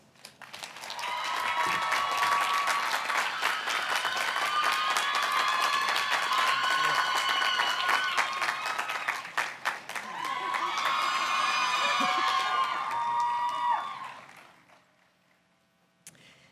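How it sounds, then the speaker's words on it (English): A commencement crowd claps and cheers in a long, loud swell with whoops rising above the applause, which briefly dips, surges again, then fades out. "Please recognize him with an applause."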